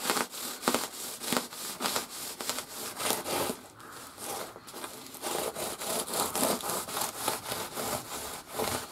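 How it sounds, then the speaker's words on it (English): A thermal insulation pipe elbow being sawn by hand, with a fast rhythmic rasping back-and-forth stroke that runs loud and close almost without pause. "So we just cut between the two lines again"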